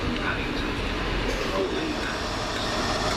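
First Great Western high-speed train at a station, a steady rumbling rail noise filling the whole stretch at moderate loudness, with a few faint clicks and no clear voices.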